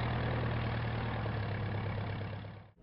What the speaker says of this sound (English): A guy in a small plane.